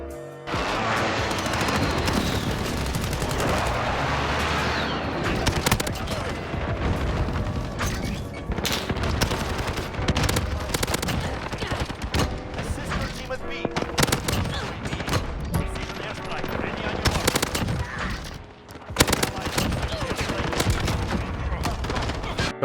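Video game gunfire on the Shipment map, dense rapid bursts and booms from several weapons layered almost continuously, with one brief lull near the end.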